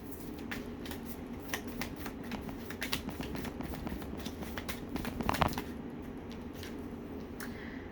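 Tarot cards drawn and handled from a deck: steady soft shuffling and sliding of card stock with occasional crisp flicks, close and continuous, no voices.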